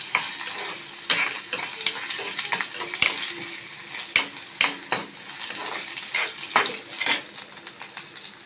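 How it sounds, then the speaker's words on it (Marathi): Ginger and garlic pieces frying in oil for a spicy soya chunks masala, a continuous close sizzle broken by repeated sharp scrapes and clinks of a spoon stirring against the pan. "आला लसूण घेणे आपण चांगले फ्राय करून घेणार आहोत तेलामध्ये भाजून घेणार आहोत"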